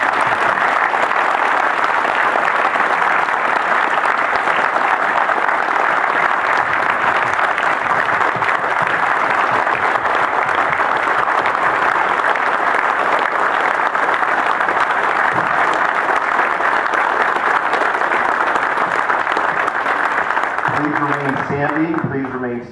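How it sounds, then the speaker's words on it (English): Sustained applause from a large audience honoring a group of twelve WWII veterans at an award ceremony, loud and steady for about twenty seconds before easing off as a voice begins. "Let us give them a well-deserved round of applause."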